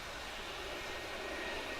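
A steady, loud roar from the engines of the Godzilla 2 aircraft by Solar Aerospace and Astro Space on its maiden test flight, running constant and unbroken with no talk over it.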